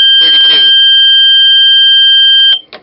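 A clock alarm buzzer set off when a thermometer reaches 32 degrees Celsius gives a loud, steady tonal electronic beep that holds for a couple of seconds and then cuts off, with brief speech at its start.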